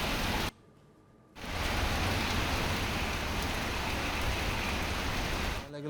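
Heavy monsoon rain pours down in Navi Mumbai, a dense, steady hiss of downpour that drops out briefly near the start and then returns loud and constant until the end.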